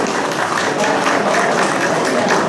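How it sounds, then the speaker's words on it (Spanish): Dense applause from a roomful of participants at a teacher training session on preparing learning sessions, steady and fairly loud, with some voices mixed in. "No es necesario aplaudir."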